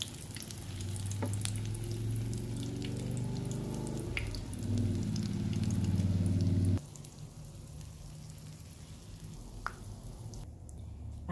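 Pacaya wrapped in egg frying in hot oil, a continuous close sizzle with popping crackles and faint clinks, the sizzle dropping sharply in intensity partway through, no speech.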